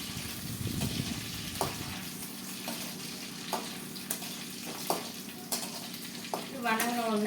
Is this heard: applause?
no